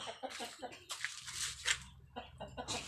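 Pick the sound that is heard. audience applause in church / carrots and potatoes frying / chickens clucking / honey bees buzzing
chickens clucking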